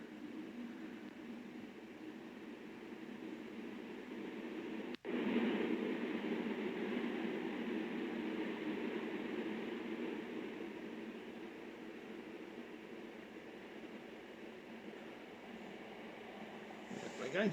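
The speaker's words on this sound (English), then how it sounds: "there's another train coming in" A train pulls into a station in Train Sim World on a Class 166 London to Reading service, giving a steady low rumble and rail hum that swells after a sharp transient near the middle, then slowly fades.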